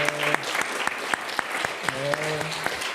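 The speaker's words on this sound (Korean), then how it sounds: "박수로 환영하겠습니다" Applause welcomes four new members during a Korean church Sunday service in Bloomington, a steady, close clapping lasting the whole moment, with a voice carrying over it.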